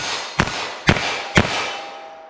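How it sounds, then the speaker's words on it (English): Three sharp revolver shots from a .32 H&R Magnum with a 4.2-inch barrel, fired in rapid, evenly spaced succession at a target range, each a loud close crack with a short ringing tail. "I'm just going to fire them off as fast as I think I can hit the target"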